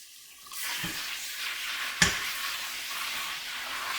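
Tender herb leaves, freshly harvested from a tea garden, rinsed in running water; a steady broadband wash of flowing water starts after a quiet moment, with a couple of soft handling knocks, close and continuous.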